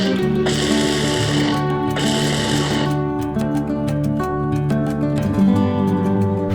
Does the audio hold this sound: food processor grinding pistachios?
yes